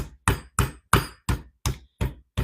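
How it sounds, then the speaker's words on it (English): Chicken breast being pounded flat with a kitchen hammer: eight hard, evenly spaced thwacks in a steady rhythm, close and loud, with no talking. "I am hitting it pretty hard. So this isn't just like a little love tap. It's a nice hammer down."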